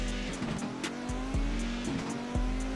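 An Audi Quattro rally car roars along at speed with a steady, loud engine note broken by quick pitch dips at gear shifts, and tire noise hisses beneath it.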